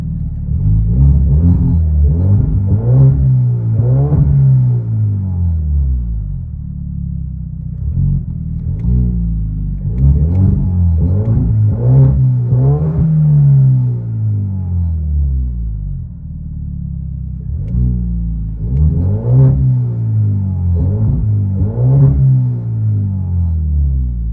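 From inside the cabin, a 2014 Hyundai Genesis Coupe with a 2.0L turbo engine and straight-pipe exhaust revs hard about four times. Each loud, booming rise and fall is separated by short idle pauses.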